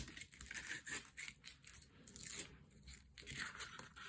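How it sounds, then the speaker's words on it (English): Cheap adhesive tape peeled back from card during decoupage cardmaking, giving a run of close, dry tearing and crinkling strips that rise and fall irregularly over about four seconds, quiet overall with no talk. "make sure they're all stuck down nice and well, and then peel back the tapes"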